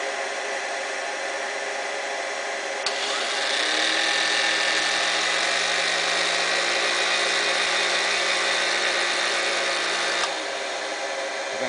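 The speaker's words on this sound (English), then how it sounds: "Nice and quiet. Grinding spindle, quiet as can be." The grinding spindle of a Cincinnati Monoset cutter grinder runs with a steady, smooth whir and airy hiss. It grows a little louder and fuller for several seconds in the middle, then drops back, with no voices.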